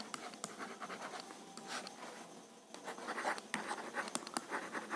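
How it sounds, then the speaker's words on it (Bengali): Someone writes on a board during a chemistry lesson, producing a steady run of soft scratchy strokes with short sharper taps as letters are formed, close and alone. "এখানে লিখছি কঠিন"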